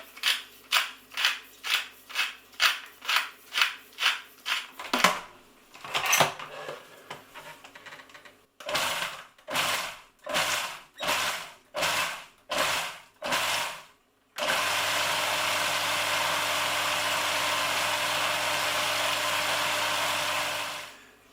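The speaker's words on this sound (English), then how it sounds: "a good grind of black pepper" A pepper mill grinding black pepper over sun-dried tomato pesto: bursts of rhythmic ratcheting clicks in quick regular runs, then a long loud steady mechanical whir, close and with no speech.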